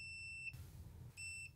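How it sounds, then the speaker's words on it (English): Digital multimeter in diode test mode sounding its buzzer, two short, sharp high-pitched beeps separated by a brief pause, close and fairly loud over low background hum. "Diode test. Wow, that's a loud buzzer."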